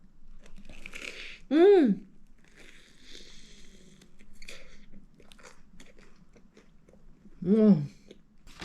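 Salt bread is bitten and chewed up close, with soft crackly crunches between two louder bites and faint mouth sounds in a quiet room.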